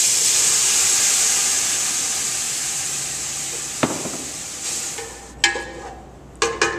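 Brandy poured into a hot pan for butternut squash bisque flames up with a loud, steady hiss that fades over several seconds, followed by a few sharp scraping clatters near the end.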